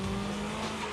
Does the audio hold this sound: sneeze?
no